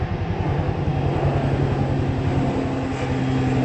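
Small airplane taking off near construction work for the new T3 terminal at Tan Son Nhat airport, a steady loud engine drone with a low rhythmic pulsing throughout, no talk.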